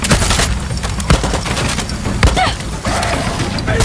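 Rapid gunfire bursts and sharp shots in the video game Far Cry 6, loud and close, with clustered volleys and impact crackles over a dense, noisy battle background.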